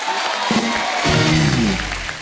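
Studio audience on a comedy talk show applauding an Asian Games 100-metre silver medallist, a short burst of clapping and cheering with music rising underneath.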